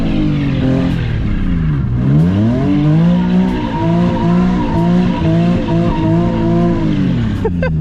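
A Nissan 350Z drifts on a wet street, its engine revving in rising and falling sweeps while the tires squeal and skid continuously, loud and close from inside the car.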